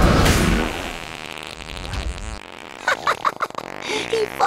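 A cartoonish fart sound effect from the animated film Teen Titans GO! To The Movies opens with a long, loud, buzzy blast that tapers off, followed by a string of shorter sputtering bursts.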